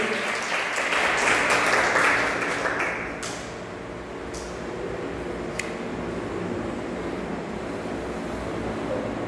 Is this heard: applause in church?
yes